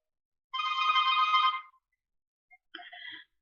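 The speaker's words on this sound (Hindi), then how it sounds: "ये फोन आ रहा है" An incoming-call phone ringtone plays a bright, tonal burst of about one second, falls silent briefly, then starts a second shorter burst, all in an otherwise quiet room.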